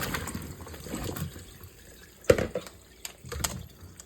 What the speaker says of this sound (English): I will now drain my strawberries.